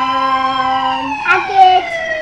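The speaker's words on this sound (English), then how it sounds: "this one is Ambulance." An ambulance siren ringtone plays loud and close, its steady electronic tones shifting pitch partway through.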